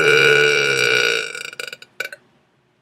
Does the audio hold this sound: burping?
yes